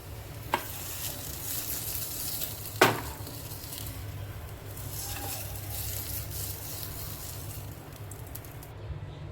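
Hot chilli tadka sizzles steadily as it is poured over potatoes, a continuous frying hiss with a couple of sharp pops and clinks near the start and no voices.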